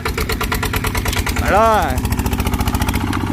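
Engine of a truck carrying a load of just over a ton pulling away in second gear, a steady, throbbing, laboring drone close by, with someone talking over it throughout.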